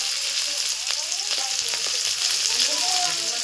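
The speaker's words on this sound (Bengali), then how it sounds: "এখানে আমি পেঁয়াজ কাঁচা লঙ্কা দিয়ে দিয়েছি।" Onion and green chillies crackle in oil in a pan, a close, steady hiss of frying with occasional soft spatters and light utensil scrapes throughout.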